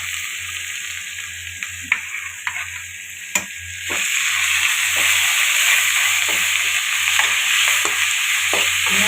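Ingredients sautéing in a pan for mutton curry, a low sizzle with intermittent scraping stirs that swells into a louder, steady hissing fry after a sharp clack, with a faint hum beneath.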